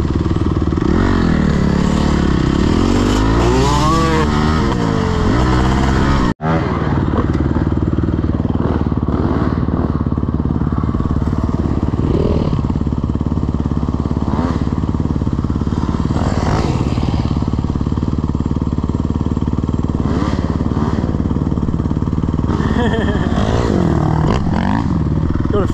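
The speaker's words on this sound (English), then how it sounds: "Few of us on the bike for the first time in a while." Off-road motorcycles ridden up a rock hill climb and along muddy forest tracks, engines loud and close throughout, revving and surging with clattering and scraping, and a brief cut partway through.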